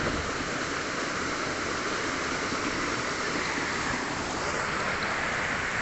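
Corralmo Falls in Calanasan, Apayao pours down from a high drop, giving a steady, dense roar of falling water that stays even and continuous throughout with no voices.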